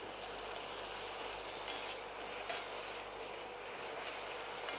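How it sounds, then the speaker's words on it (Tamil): Banana stem sauteing in oil in a pan makes a faint, even sizzle with light scrapes and stirring clinks, heard close but quiet, with no one talking. "இப்போது இந்த வாழைத்தண்டை வந்து நம்ம வதக்கியிருக்கோம் நல்லா வதங்கிடுத்து"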